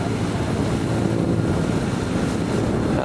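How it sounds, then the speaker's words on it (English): A sailing yacht's engine drones steadily at sea, a loud continuous broadband rumble mixed with wind and water rush, with no voices. "We've still got the engine going."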